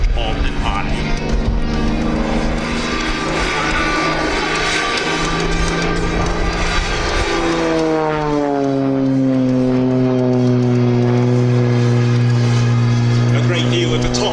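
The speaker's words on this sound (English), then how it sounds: "the aircraft rolls continuously around its own axis" An Xtreme Air XA41 aerobatic propeller plane performs a rolling circle at an airshow, its loud engine drone holding steady and then sliding downward in pitch as the roll continues, with a commentator talking over it.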